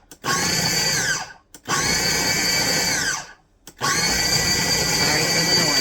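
Food processor pulsing butter into pie crust dough for a chicken pot pie, three loud whirring bursts separated by short pauses, each rising then winding down.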